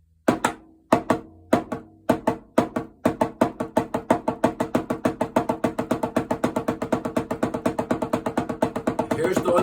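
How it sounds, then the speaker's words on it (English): Drumsticks tapping on a practice pad, each stroke bouncing twice, starting slow and gradually speeding into a steady, even stream of double hits. "and bounce your sticks"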